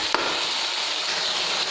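Steady, close sizzling hiss of mutton qeema frying with plums for biryani, broken once early by a short sharp tap.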